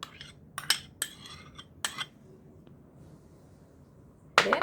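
Soaked mung beans stirred together in a pot, giving a few sharp utensil clinks and scrapes near the start and one louder clatter at the end, with quiet pauses between.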